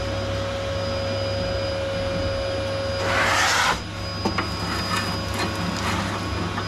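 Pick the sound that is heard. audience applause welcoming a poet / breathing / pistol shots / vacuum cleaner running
vacuum cleaner running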